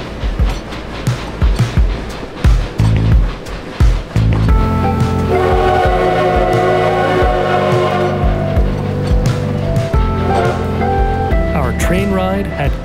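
A tourist train carries passengers between Hill City and Keystone in the Black Hills of South Dakota. Rumbling wheels and clattering cars roll steadily throughout, with a sustained whistle-like tone in the middle and scattered sounds from aboard.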